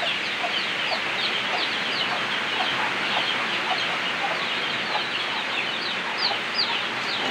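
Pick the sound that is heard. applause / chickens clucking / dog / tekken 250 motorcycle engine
chickens clucking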